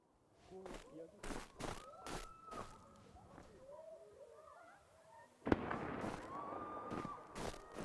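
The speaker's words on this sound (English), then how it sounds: "Gunshots and screaming, just what I was hoping to hear." Gunfire and screaming from the video game Indika arrive as a string of sharp bangs with a background voice. A louder burst lands midway through and is followed by sustained noisy commotion.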